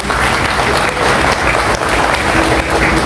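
A congregation at an outdoor mass breaks into loud, sustained applause, a dense wall of clapping that stays steady for its full length.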